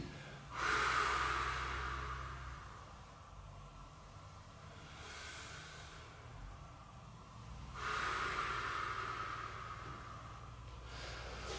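Slow, heavy breaths during a Pilates exercise, drawn in and pushed out audibly, a long exhale then another, close and deliberate against a quiet room.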